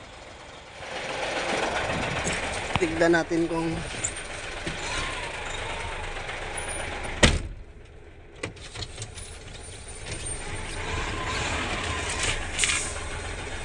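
A Hino 700 truck engine runs steadily at idle while building air pressure, a continuous loud rumble with a brief hiss partway through. Someone speaks briefly over it.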